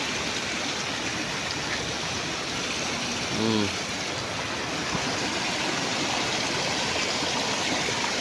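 Floodwater rushes through a creek in Angeles City, Pampanga after days of continuous heavy rain, a loud, steady broadband roar of churning water, with a brief voice heard faintly under it.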